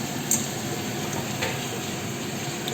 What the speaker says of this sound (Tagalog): isunod na po natin yung chicken natin na ipreprito